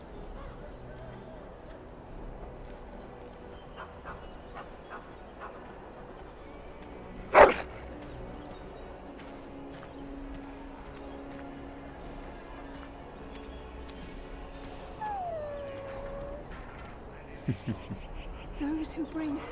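A dog in the video game Dragon Age Origins gives a single sharp bark midway, then a thin whimpering whine, set against steady game ambience with voices underneath.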